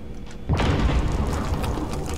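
Airstrike in Call of Duty Warzone: after a brief quiet moment, a heavy booming explosion bursts in and rolls on as a loud, rumbling roar with crackling debris.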